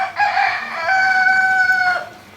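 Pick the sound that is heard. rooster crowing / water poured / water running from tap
rooster crowing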